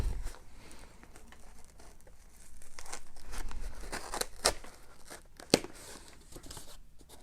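Tape is torn and peeled off a plastic-wrapped movie disc package, a mix of ripping and crinkling rustles close up, with one louder snap near the end and no talk.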